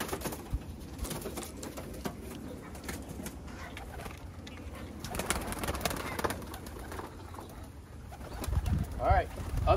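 Racing pigeons cooing in a loft, soft low throaty coos scattered across the stretch amid rustling and shuffling, with a louder burst of cooing and wing movement near the end and faint voices in the background.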